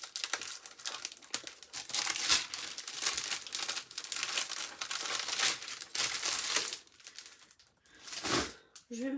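A scrap of crafting paper is handled and folded up close, with a steady stream of crinkling, rustling and soft crumpling that swells and fades across the whole stretch.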